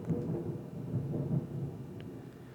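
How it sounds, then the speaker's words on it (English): Low, rumbling thunder from a thunderstorm rolls continuously at a steady loudness, deep and somewhat distant, with rain faintly underneath and no talking. "There's a thunderstorm going on right now while I'm recording this"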